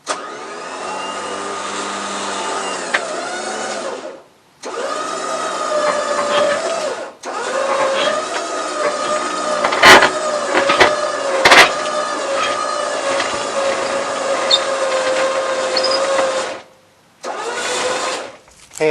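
A Badlands APEX 12000 electric winch rigged with a three-part line whines steadily and loudly as it slowly pulls a trailer out from under a load, stopping briefly twice before running again.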